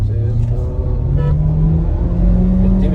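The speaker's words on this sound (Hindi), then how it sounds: "तेज करो गाड़ी ना" A motorbike on a waterlogged road holds a steady, close engine rumble that rises slightly as it speeds up, with voices faintly present in the background.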